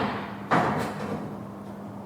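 Car bonnet of a Triumph TR6 under restoration bangs once sharply as it is fitted, a single loud metallic knock followed by a dull resonant ring and faint shuffling.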